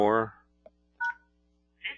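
DTMF keypad tones from an IP phone dialing star 74: three short beeps in sequence, clear and close, after a brief burst of speech at the start.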